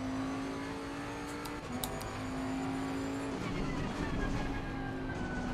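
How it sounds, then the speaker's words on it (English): Tyres squealing into corners on a GT3 race car in a racing video game at Brands Hatch, a thin high whine over the steady engine drone and road noise, the squeal rising and fading as the car turns. "Slightly hear it, it's just tyres are squealing into the corners"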